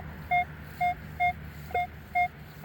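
A metal detector sounds a clear electronic tone over a buried target near a riverside regatta site, giving five evenly spaced beeps about every half second against a quiet outdoor background.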